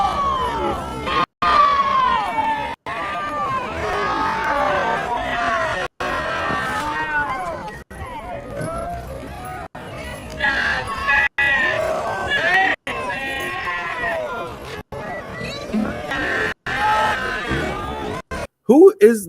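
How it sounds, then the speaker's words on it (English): People screaming and shouting at a Trump rally in Saginaw, Michigan, loud chaotic yells and voices in a crowd, repeatedly cut by abrupt gaps, with talking mixed throughout. "Who is in the background screaming like that?"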